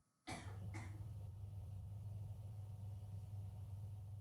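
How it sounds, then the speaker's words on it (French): A couple of short, muffled coughs come at the start, then a steady low hum runs underneath for the rest. "on a entendu la toux"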